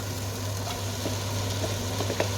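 Onions and capsicum frying in a pan for paneer masala curry give a steady, soft sizzle, with faint ticks of stirring near the end.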